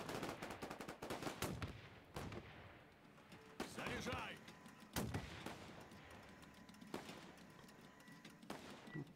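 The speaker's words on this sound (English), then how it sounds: "Machine guns." Machine guns rattle in a Russian defensive battle in Men of War 2, sharp bursts and single cracks spaced irregularly across the stretch with booms between them, fairly distant and mixed with occasional quiet talk.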